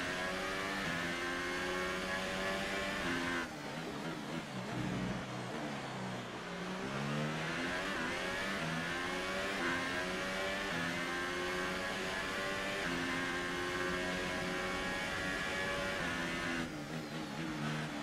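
A Formula 1 car engine in the F1 2018 racing game at the Bahrain circuit screams continuously, rising and falling in pitch through gear shifts and braking, loud and alone with no speech.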